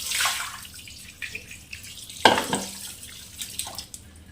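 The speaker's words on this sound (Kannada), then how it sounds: "ಇದನ್ನು ಅಷ್ಟೇ ನೀರು ಹಾಕ್ಬಿಟ್ಟು ಇಟ್ಟು ಹೋಗ್ತೀನಿ" Water splashes and trickles over half a kilo of firm fish in a container, with a sharp splash near the middle and softer dribbles before and after, close by and with no talk.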